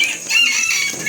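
Native chickens cluck nearby in a mountain setting, a short close burst of scratchy, rapid fowl calls with no talk.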